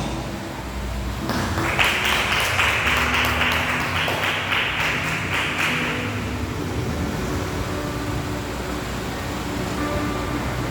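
A church congregation bursts into loud, dense clapping that lasts about five seconds before fading into a steady hiss of room noise.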